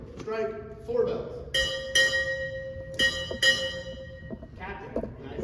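A ship's bell rings four times at a U.S. Navy change of command ceremony, struck in two closely spaced pairs with clear ringing tones that fade between strikes, along with brief voices before and after.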